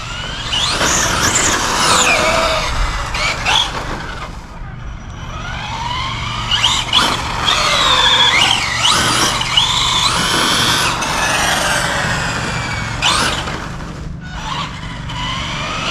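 A Traxxas XO-1 RC car drives fast, its electric motor whining in rising and falling sweeps with sharp chirps as it brakes and slides, loud and close throughout with no talking.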